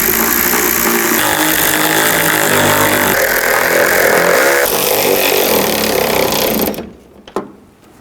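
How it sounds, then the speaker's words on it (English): A power ratchet snugs down the headlight bolts on a 2007-2011 Honda CR-V, whirring loud and close for several seconds before cutting off, with a few faint clicks afterward. "And now you can snug all the bolts down."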